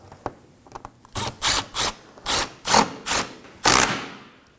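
A 10mm bolt is tightened on the condenser of a 2014-2020 Acura MDX during an AC condenser replacement. A few light clicks come first, then six loud, rhythmic ratchet strokes, each a rasping burst, close up and with no voice.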